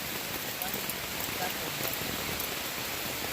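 Steady rain falls during a rainy stretch of an Appalachian Trail thru-hike, a dense, even hiss with scattered drop taps that carries evenly through the whole stretch.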